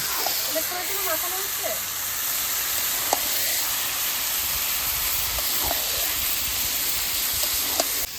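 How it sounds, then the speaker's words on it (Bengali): Marinated goat meat hits spices already fried in a pot, setting off a loud, continuous hissing sizzle with a few sharp clicks from stirring and a voice briefly speaking early on. "এবার ম্যারিনেট করা খাসির মাংসটা দিয়ে দেবো"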